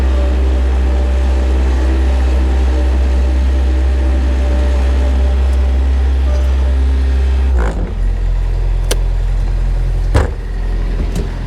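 A farm skid steer, running low on fuel on a snowy day, idles with a loud, steady low engine rumble that cuts out abruptly partway through, leaving quieter clanks and knocks.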